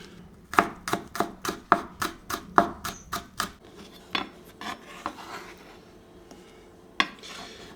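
A knife chops spring onions on a board for dumpling filling, a quick run of about a dozen crisp close chops that then slows to a few scattered cuts.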